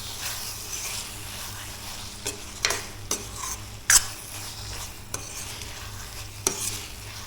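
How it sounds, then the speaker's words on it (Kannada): Squid sukka with ghee is stirred in a pan, giving a soft continuous sizzle broken by several sharp scrapes and clicks of a spoon against the metal, with no talk. "ತುಪ್ಪ ಹಾಕಿ ವಾಪಸ್ ಚೆಂದ ಮಿಕ್ಸ್ ಮಾಡಿಕೊಳ್ಬೇಕು."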